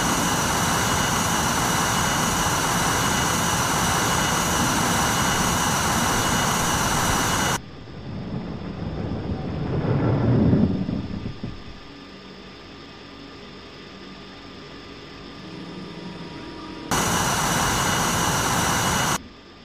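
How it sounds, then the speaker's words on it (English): Jet aircraft taking off in the Falcon BMS flight simulator game: a loud, steady engine roar, then a brief rising rush as it climbs away, settling to a quieter hum before the steady roar returns. "Took off from the taxiway, now I'm airborne."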